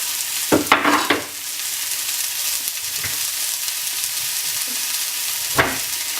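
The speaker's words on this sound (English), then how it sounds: "once the onions wilted down a little bit, I then add my softer vegetables" Mushrooms and tomato frying with wilted onions in a pan for an omelette, a steady loud sizzle close by with a few scraping stirs near the start and end.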